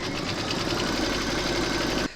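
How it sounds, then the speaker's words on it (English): A computerized embroidery machine stitches a line through fabric layers held in a hoop, a fast even rattling drone close up that runs steadily for about two seconds and then stops abruptly. "we're going to stitch round number 7, and that's going to do a line of stitching here to secure both pieces in the hoop"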